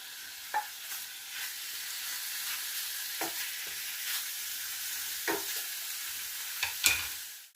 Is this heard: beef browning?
yes